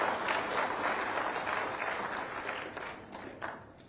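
Crowd applause at a PM Kisan Utsav farmers' festival gathering, a sustained burst of many people clapping in a large, somewhat reverberant space, moderately loud.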